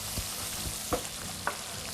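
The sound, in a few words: mushrooms slowly browning, frying in a pan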